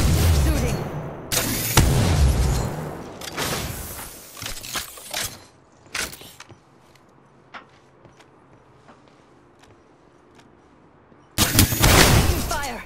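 Gunfire in Apex Legends comes in several loud bursts of rapid shots, clustered early and again near the end, separated by quieter stretches of game ambience.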